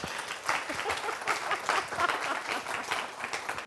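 An audience at a rainwater design symposium applauds after a talk, a dense, even wash of many hands clapping at moderate volume, heard from a little distance with no speech on top.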